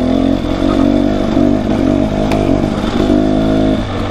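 A brand new quad ATV with push-button shifting and automatic clutch revs loudly and close by, its engine note rising and settling in a steady throaty drone.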